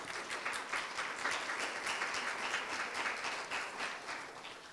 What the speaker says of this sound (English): Let's give all of those co-hosts and vendor a big round of applause.